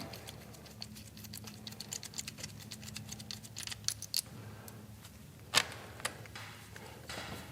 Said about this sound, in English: remove the nut and the washer from the bracket stud, leaving one nut. Take the bolt and washer out of the side